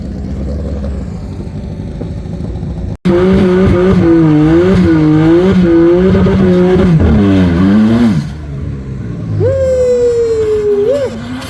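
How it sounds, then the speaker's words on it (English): A BMW M3 race car revs hard at a drag racing event, its engine note rising and falling in loud wavering sweeps with a sudden cut, then a long climbing wail as it accelerates away, close and dominant. "Listen to that M3."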